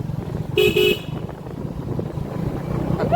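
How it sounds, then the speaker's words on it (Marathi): A motorcycle horn gives a short double honk nearby over a background of passing traffic noise. "त्याला तो हॉर्न करायचा"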